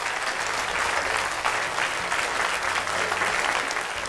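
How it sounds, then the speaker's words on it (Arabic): Studio audience applause for a caller on an Arabic children's talent show, a steady, dense wash of clapping that holds at an even level throughout with no voices over it. "تصفيق لزهراء"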